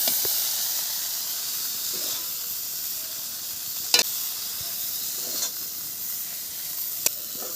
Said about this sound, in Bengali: চিংড়ি ভাজা হয়ে গেছে, এবারে তুমি চিংড়ি ভাজা তুলে নিচ্ছি